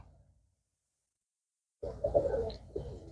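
After more than a second of near silence, pigeons give a short, soft, low cooing phrase that is close and fairly quiet.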